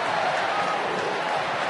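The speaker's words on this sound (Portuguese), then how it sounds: "E a vibração da torcida do Avaí" Avaí supporters roar in a stadium after a goal against Atlético Paranaense in a 2011 Brasileirão match, a dense, steady wall of crowd noise that stays loud and unbroken throughout.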